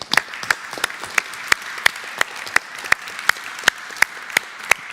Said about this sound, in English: So please, applause for you.